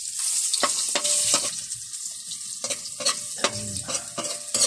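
Garlic sizzles steadily in hot oil in a pan while a utensil scrapes and stirs it in repeated strokes, up close with no voices.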